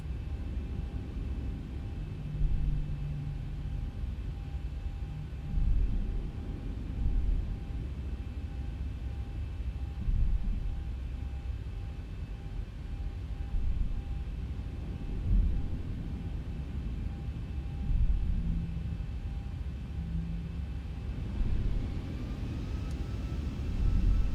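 Boeing 737-700 takeoff roll in the X-Plane 11 flight simulator, a steady broadband engine roar with low rumble holding across the whole stretch, faint tonal hums above it and occasional swells in level, with no talk.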